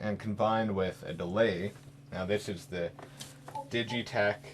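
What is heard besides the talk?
None of the usual background noises is heard.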